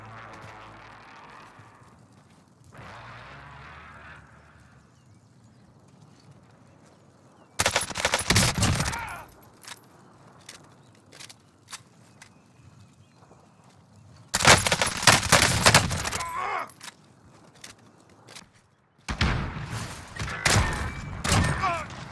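Bursts of automatic gunfire in the Modern Warfare video game, three loud volleys separated by quieter game ambience, with some talk in between.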